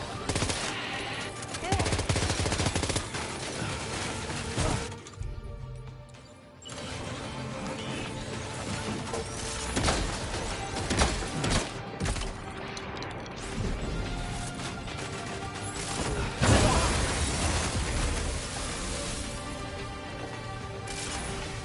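Sustained rapid gunfire in the Death Stranding 2 video game, dense and loud, with crashes and mechanical clatter mixed through the barrage for about twenty seconds.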